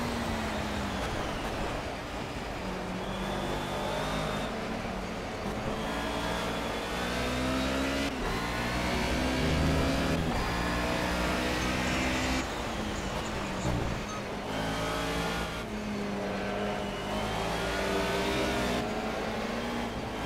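A Mercedes 190E race car in Project CARS laps Brno in the rain, its engine droning steadily near and loud, climbing through gears and dipping under braking, with other cars audible around it and nobody talking.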